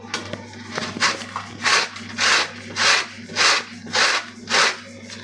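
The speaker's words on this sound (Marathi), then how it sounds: "तर बघा, आता इथे मी कैरी तुम्हाला किसून दाखवते।" Raw mango is grated on a hand grater in steady rhythmic rasping strokes, about seven even scrapes near at hand over a low steady hum, with no talking.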